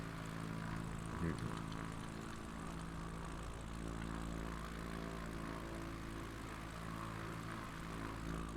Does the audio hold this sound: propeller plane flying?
yes